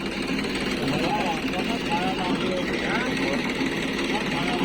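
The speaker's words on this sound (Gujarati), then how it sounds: "રોટાવેટર ને આ ખેતરમાં મારવાનું" A tractor-driven rotavator works a farm field with a steady, loud mechanical drone and rumbling engine note that holds constant throughout.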